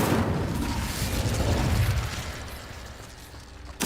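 An Incendio fire spell blasts in Hogwarts Legacy as a loud burst of roaring flame with a crackling rumble. It slowly tapers off, and a sharp click follows at the end.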